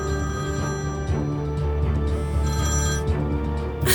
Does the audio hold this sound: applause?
no